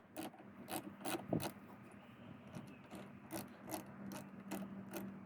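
A 12mm socket wrench ratchets while undoing a car battery terminal, giving a series of quiet, close clicks and rasping turns in short uneven bursts.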